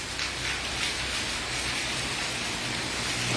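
Heavy, smoky-looking rain pours down in a continuous close hiss, steady and unbroken, with a faint low rumble underneath and nobody speaking.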